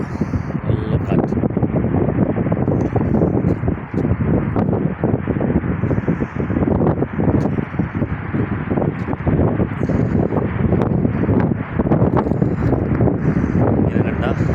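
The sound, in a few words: strong wind blowing on the road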